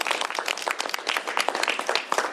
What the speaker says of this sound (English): Round of applause for getting this one done